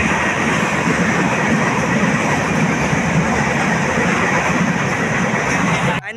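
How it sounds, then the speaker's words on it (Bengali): A long train rumbles past at close range, a loud, steady roar of wheels and cars that holds for several seconds, then cuts off abruptly at the end. "ফাইনালি ট্রেনটা চলে এসছে"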